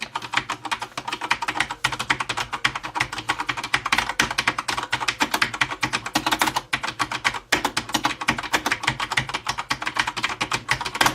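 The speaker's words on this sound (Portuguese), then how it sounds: "deixa eu mostrar para vocês qual que é o barulho desse teclado aqui de pertinho." Close-up typing on a CM Storm Quickfire TK mechanical keyboard, a dense continuous clatter of crisp key clicks at a fast, uneven pace with short pauses, with no voice.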